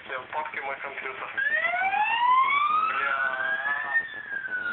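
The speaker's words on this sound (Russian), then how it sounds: "ты выключишь сирену" A wailing emergency siren rising and falling in loud sweeping tones, close and continuous, passing by a car with engine noise underneath.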